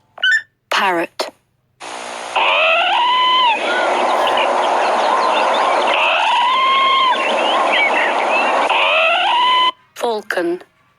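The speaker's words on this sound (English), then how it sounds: "Parrot." A parrot lets out a long run of loud, grating squawks and screeches, with a short spoken word just before and after.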